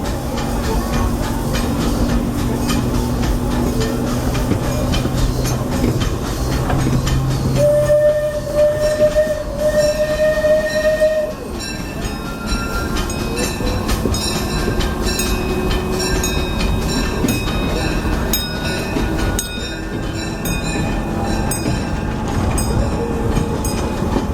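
Disneyland Railroad steam train rumbling along the tracks in the theme park, a steady loud rolling roar with clattering wheels and a sustained whistle tone midway, with no talking.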